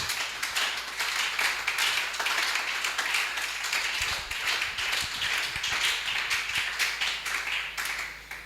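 A church congregation at a Friday service claps together steadily and fairly loud in a quick, even rhythm for several seconds, with a faint hum underneath.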